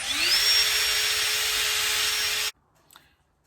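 A power drill whirs steadily at close range for a couple of seconds, boring a pilot hole in timber, then stops abruptly, followed by a faint knock.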